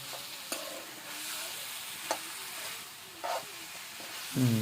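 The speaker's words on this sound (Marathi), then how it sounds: "चमच्याने असं मिक्स करून घेऊया" A spoon stirs cluster beans (gawar) in a pan of onion-tomato masala. A soft sizzle runs throughout, with a few sharp scraping taps against the pan and a louder clatter at the end.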